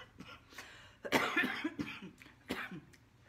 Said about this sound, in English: Excuse me, I have had a cough